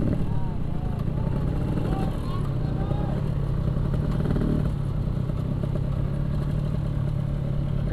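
Yamaha RX King motorcycle engine droning loudly and steadily up close, its two-stroke note blending with another bike's engine and road noise as the two race side by side, with a brief swell midway.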